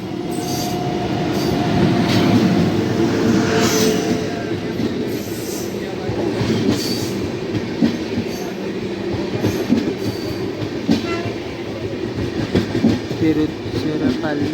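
A passenger train on the Ahmedabad to Mumbai Central line rolls in from the Ahmedabad side, a steady loud rumble of wheels and carriages with clattering rail joints and brief squeals throughout.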